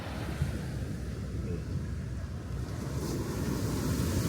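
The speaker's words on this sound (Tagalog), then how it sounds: "Napakalakas na alon." Strong ocean waves roll onto a Zambales beach in a continuous loud wash of surf mixed with gusty wind noise across the microphone, with no voices.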